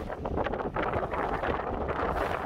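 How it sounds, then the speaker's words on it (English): Strong wind on a bass-fishing outing roars and buffets against the microphone in a constant dense rush, with gusty fluctuations and no voices. "it got really, really windy out"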